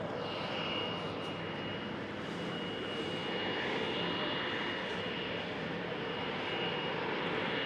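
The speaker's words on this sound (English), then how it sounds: "So the German Airways E190 just taxied by" Embraer E190 jet of German Airways taxiing at Amsterdam Schiphol airport, a steady broadband engine roar with a faint high whine, constant and fairly distant throughout.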